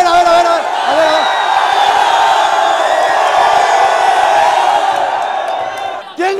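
Large arena crowd at a basketball event in Madrid shouting and whooping loudly, a dense sustained roar of many voices lasting several seconds with shouted calls over the top.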